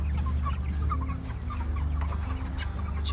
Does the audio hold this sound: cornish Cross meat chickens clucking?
yes